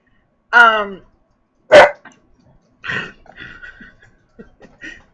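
Several sharp dog barks ring out close by, spaced a second or so apart, followed by quieter yips and a few murmured words.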